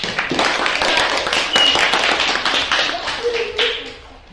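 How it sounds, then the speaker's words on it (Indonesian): A school class claps for a student group, a brisk patter of many hands up close that swells and then fades, with voices talking over it. "Mari kita tepuk tangan buat kelompok 4."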